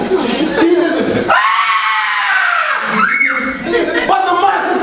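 A voice imitates a woman screaming in terror at an approaching monster, a loud, drawn-out wailing shriek with rising and falling pitch, delivered amid talk and crowd reaction in a church men's service.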